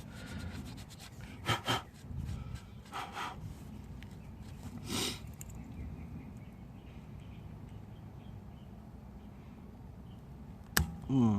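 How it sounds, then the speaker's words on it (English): Super glue being scraped off a nylon rim protector on a Tesla Model 3 wheel, heard as a few short, close rasping scrapes spread over a quiet stretch, with a sharp scrape near the end. "Just want to scrape the super glue off."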